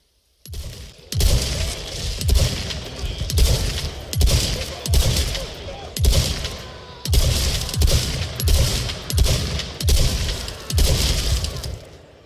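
Riot Gun shotgun, modeled on a Benelli M3 Super 90, fires repeatedly in Resident Evil 4 Remake: about a dozen loud, booming blasts at a steady pace, each with a short decaying tail, no talk over them.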